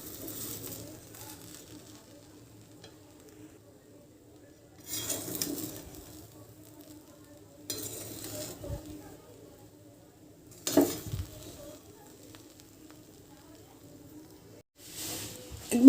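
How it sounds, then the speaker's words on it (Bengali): Metal spoon scraping and clinking against a pot while basanti pulao, a sweet yellow Bengali rice, is stirred, with a few louder bursts of stirring and scraping spaced out over a quiet background. "এখন এটাকে একটু ভালো করে নেড়ে চেড়ে দিচ্ছি।"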